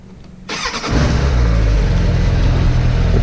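A Suzuki GSF600 motorcycle starts up cold, cranking briefly before the engine catches and settles into a loud, steady, close idle as it warms up.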